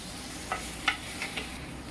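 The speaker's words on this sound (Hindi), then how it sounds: "इसी वक्त इसमें मैं आलू डाल दूंगी और एक हरी मिर्च। इसे मैं अच्छी तरह मिला लेती हूँ" Potatoes and a green chili are stirred in a hot pan for a quick masala potato curry. Three or four soft, close scrapes sound over a steady sizzle.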